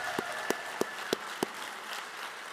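Scattered audience claps, about five distinct sharp hand claps spaced roughly evenly over a low room murmur, at a school district teacher of the year celebration.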